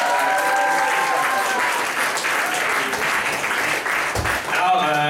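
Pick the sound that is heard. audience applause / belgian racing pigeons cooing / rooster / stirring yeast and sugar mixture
audience applause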